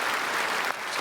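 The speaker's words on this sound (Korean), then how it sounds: "우리 크게 박수로 환영하겠습니다." A church congregation at a Sunday worship service claps to welcome newcomers, a steady wash of many hands at moderate volume that dips slightly near the end.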